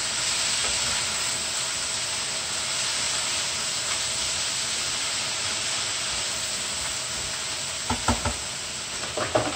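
Vegetables stir-frying in a hot pan give a loud, continuous sizzling hiss, with a few quick clatters of stirring near the end.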